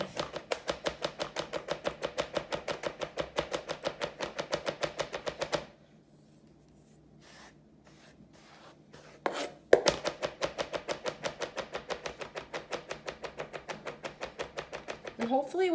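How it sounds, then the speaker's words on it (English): Rapid, steady chopping of herbs with a chef knife on a board, close and crisp, pausing briefly midway before the quick rhythmic strokes resume. "But when it comes to something like chopping an herb,"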